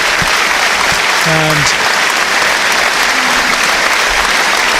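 Home supporters inside Brunton Park, Carlisle United's football ground, keep up steady applause during a match against Forest Green Rovers, a broad, continuous wash of distant clapping under a commentator's voice.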